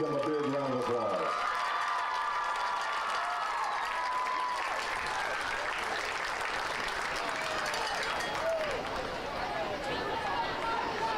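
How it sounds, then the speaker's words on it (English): Crowd applause and cheering rise in the stands at a high school football game at Anahuac High School's Kyle White Stadium, a steady broad clatter after a brief announcer line at the start. "Let's give them a big round of applause."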